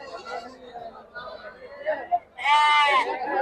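Sheep at the Chitradurga sheep and goat market let out a loud, wavering bleat near the end, over steady crowd chatter and voices talking throughout.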